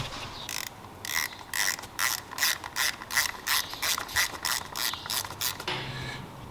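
Screws being driven into a gauge pod on a Harley Low Rider ST riser, a close series of quick ratcheting clicks in rapid bursts with short pauses, ending in a lower thump.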